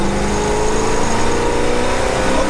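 An old farm truck, about fifty years old, accelerates gently with a steady, continuous engine drone that builds slightly, close and loud throughout without talk.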